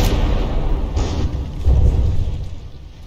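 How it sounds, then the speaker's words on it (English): A battleship turret explodes in the naval combat game From the Depths, giving a steady heavy rumble with a couple of dull booms swelling through it, fairly loud and continuous, with no speech. "Yep, the explosion managed to get in through the underside"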